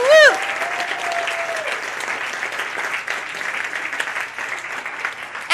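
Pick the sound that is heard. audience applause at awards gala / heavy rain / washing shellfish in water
audience applause at awards gala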